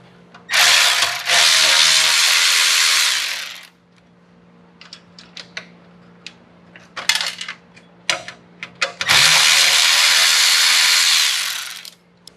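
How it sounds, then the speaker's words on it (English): An 8mm socket ratchet removing bolts inside a Toyota 4Runner dash: two long, loud, sustained ratcheting runs separated by a stretch of scattered metallic clicks and taps, close up with no talking. "we're going to use a 8mm socket here to remove these"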